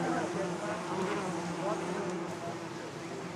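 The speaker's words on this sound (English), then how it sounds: "Look at the size of these bees." Dense buzzing of large honey bees in Nepal, a continuous close hum with wavering tones, with faint voices underneath.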